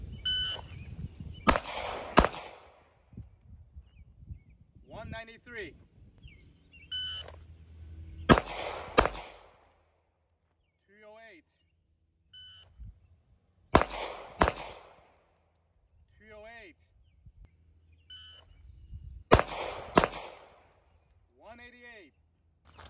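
A Ruger LCP Max .380 ACP pistol fires in four separate groups of sharp, loud shots a few seconds apart, with someone speaking in the gaps between volleys.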